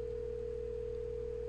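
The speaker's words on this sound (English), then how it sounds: "your phone goes off hook, and that user is called." An Avaya desk phone goes off hook and gives a steady, unbroken dial tone, a constant clear hum heard alone.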